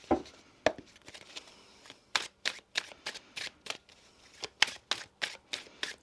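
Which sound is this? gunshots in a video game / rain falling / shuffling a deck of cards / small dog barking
shuffling a deck of cards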